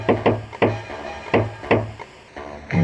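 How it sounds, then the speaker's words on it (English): Secret knock on a motel door in the video game Jazzpunk: about eight sharp wooden raps in an uneven, patterned rhythm, close and distinct, with no voices. "Knock on the door using the secret knock"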